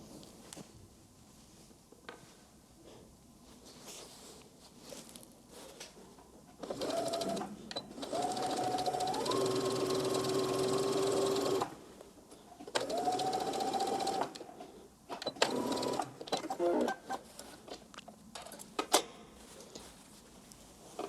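A sewing machine stitches the pockets onto a skirt piece in two steady whirring bursts of several seconds each, separated by pauses with small handling clicks and shuffles, close and moderately loud.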